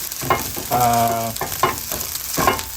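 Fried rice with pork belly char siu sizzles loudly in a hot pan over high heat, with rhythmic scraping and stirring strokes and no talk.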